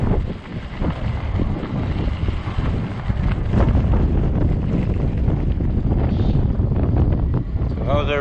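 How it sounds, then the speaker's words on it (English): Heavy wind gusting at 30 mph buffets the microphone during a ride on a 20-inch, 48-volt fat-tire e-bike, a loud continuous low roar with occasional bumps and a brief voice near the end. "The wind's like blowing heavy."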